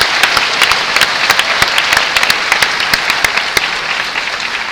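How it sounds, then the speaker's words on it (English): Graduates at a Bergen County Technical School graduation ceremony clap together in a dense burst of applause, with sharp individual claps standing out across the crowd and keeping steady for several seconds. "Let's start by giving yourselves a hand of applause again."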